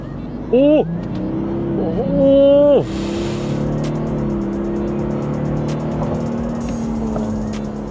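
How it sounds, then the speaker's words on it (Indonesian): Toyota Land Cruiser 300 accelerating hard from low gear with manual shifting, engine note rising in steady harmonic sweeps and dropping at gear changes, loud and close from inside the cabin. "Gua akan tes kita dari gigi rendah ya, main manual. Kita gaspol sekarang."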